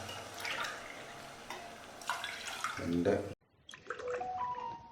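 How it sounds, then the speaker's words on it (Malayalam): Water is poured into a pot holding sugar, a splashing, trickling pour for about three seconds that cuts off abruptly, with speech around it. "ഒരു 5 കപ്പ് വെള്ളം കൂടെ ആഡ് ചെയ്യാം"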